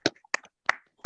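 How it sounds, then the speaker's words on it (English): Four sparse, separate hand claps in about a second, quiet and close, with irregular timing and no sustained crowd applause. "let's give each other a round of applause"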